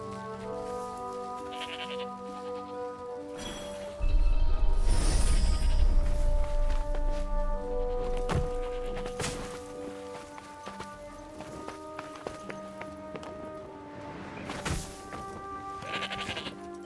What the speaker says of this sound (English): Fed the sheep.